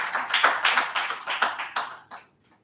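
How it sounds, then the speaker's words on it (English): Scattered hand clapping at a press conference about an immunotherapy clinical trial, a brief burst of claps in uneven pulses that stops abruptly after about two seconds, leaving near silence. "Please a round of applause for this."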